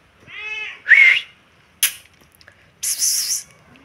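A tomcat meows close by, with two drawn-out meows followed by a brief rustle and a harsher, noisier cry after a pause.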